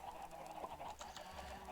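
Many Minecraft chickens crowded in an enclosed space, clucking in overlapping, continuous bursts at moderate loudness with no talking.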